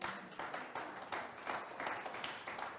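A church congregation applauds and cheers steadily in acclaim of Jesus, dense continuous clapping at moderate distance filling the whole stretch with no pause.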